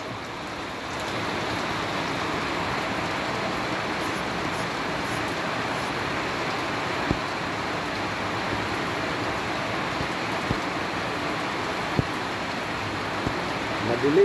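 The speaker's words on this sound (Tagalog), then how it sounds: "Madilim ang paligid dahil biglang ulan ng malakas." A heavy, sudden downpour falls as a steady hiss of rain on surfaces, constant and enveloping throughout, with occasional drips and a faint voice underneath.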